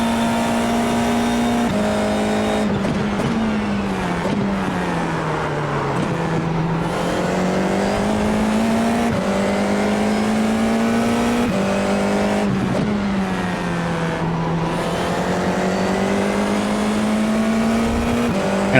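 F4 race car on the Hockenheim National A circuit in the iRacing game, its engine droning loudly and continuously while the pitch climbs and falls through repeated upshifts and acceleration, with no talking.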